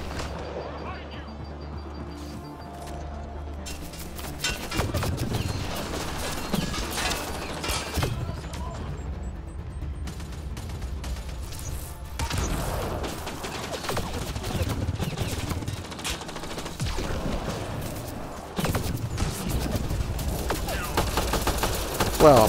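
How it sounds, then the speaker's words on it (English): Weapons fire in the video game Mass Effect Andromeda crackles in dense volleys and rapid machine-gun bursts throughout a long firefight, punctuated by mechanical clanks, with someone talking at times over the shooting. "Who's shooting me?"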